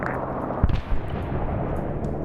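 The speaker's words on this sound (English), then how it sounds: "we're taking some kind of high explosive rounds on our position" Incoming high-explosive rounds land in an Arma 3 SOG Prairie Fire battle, a couple of short heavy impacts rising out of a constant loud rumble of combat noise.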